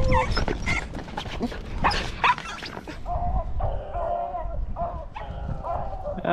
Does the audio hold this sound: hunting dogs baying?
yes